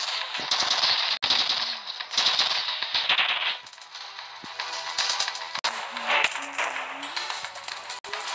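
Rapid bursts of gunfire from shooting aliens in the video game Earth Protect Squad, loud and repeated in clustered volleys with short pauses between them.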